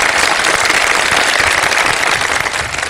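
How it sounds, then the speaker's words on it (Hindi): A studio audience at a 2015 Shan e Iftar Ramadan television show claps in a dense, continuous burst of applause, loud and steady throughout. "बहुत सारी तालियां"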